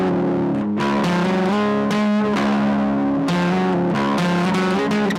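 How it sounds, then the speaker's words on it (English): Direct electric guitar run through a Logic Fuzz Face distortion plugin, loud and saturated, playing sustained fuzzy chords that change every second or so, buzzing and gritty with no talk. "So this is the just direct with the fuzz."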